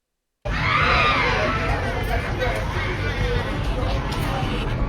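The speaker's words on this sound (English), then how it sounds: "Disturbing, desperate screams can be heard coming from her neighbor's apartment." Frantic, muffled screaming and shouting from a neighbor's apartment blend with agitated crowd babble, loud and chaotic throughout.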